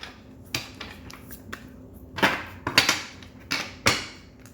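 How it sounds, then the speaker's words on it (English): A deck of tarot cards is shuffled in a run of crisp riffling bursts and soft taps, close up, with short uneven gaps between bursts and no talking. "But let me get a good shuffle."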